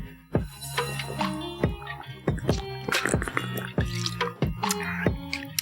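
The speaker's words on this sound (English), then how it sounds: "Trusty water sounds." Water drips and splashes close by in uneven, plinking drops with short pouring gurgles between them, resonant and clear, with no talking.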